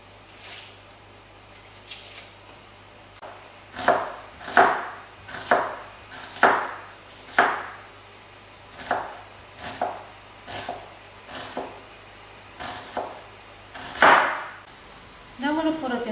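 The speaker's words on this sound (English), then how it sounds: "I'll peel and cut my onions in very little cubes" Onions being cut into very small cubes on a board, a series of distinct knife chops at an irregular rhythm, close and fairly loud over a faint steady hum.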